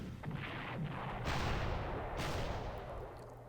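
Artillery fire strikes an anti-aircraft gun in the Panzer Corps wartime strategy game, a few heavy booming blasts that swell and rumble, fairly muffled and overlapping.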